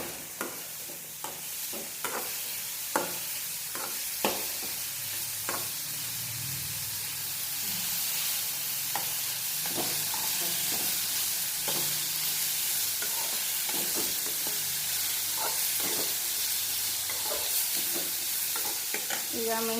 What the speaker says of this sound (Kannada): ಹೀರೆಕಾಯಿ ಸ್ವಲ್ಪ ಫ್ರೈ ಆದಮೇಲೆ